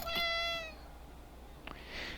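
A cat in the Popup Dungeon video game gives a single clear, fairly close meow at the start, followed by quiet background and a faint later chirp.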